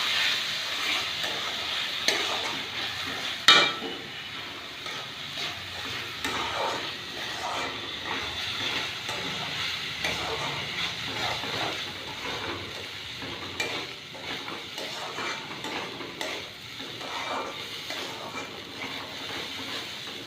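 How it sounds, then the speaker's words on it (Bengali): Raw rice is stirred into fried spices and raisins in a pan for pulao, giving a continuous soft hiss and sizzle with scraping, rustling stirring strokes and an occasional clink of a utensil, steady and close. "এবার চালটা দিয়ে একটুখানি নেড়ে নেব।"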